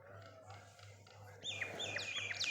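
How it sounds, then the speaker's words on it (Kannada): Small birds chirp and tweet in a busy, overlapping chorus at sunrise, with a steady low hum underneath for the first part before the calls rise clearly and fill the rest. "ಅಲ್ಲೊಂದೆರಡು ಪಕ್ಷಿಗಳು ಕೂತಿದ್ವು"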